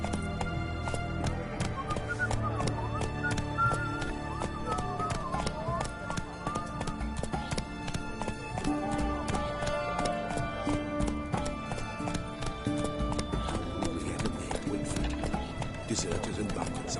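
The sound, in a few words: horse Roach galloping in video game The Witcher 3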